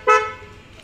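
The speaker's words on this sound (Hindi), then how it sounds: "अगर आप गाड़ी लॉक करोगे तो साउंड भी करेगी" A single short horn-like chirp from a 2023 Kia Sonet as it locks, loud and close, fading quickly into low background noise.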